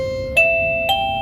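A PLACUY wireless video doorbell chime set to a low volume gives two soft, clean ding-dong tones, each ringing out with a steady sustained tail, alone with no talk.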